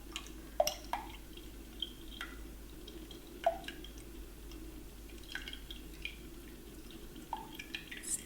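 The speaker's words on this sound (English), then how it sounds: "drain it into a cup" Juice from a can of peaches drains into a cup in slow, scattered drips and small splashes, quiet and close over a steady low background hum.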